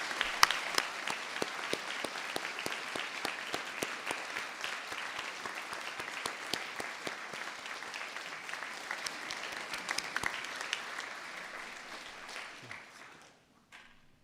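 A winter graduation audience applauds at length, dense crowd clapping with scattered sharp claps, holding steady before fading out near the end.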